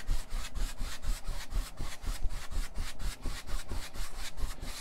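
Paintbrush working crisscross strokes across paper while painting a mountain scene, a close rhythmic scratchy rubbing repeated several times per second throughout.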